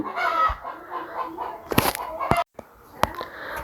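Chickens cluck and fowl call close by on a small poultry farm in winter, short irregular bursts with a few sharp squawks, separated by brief quiet gaps.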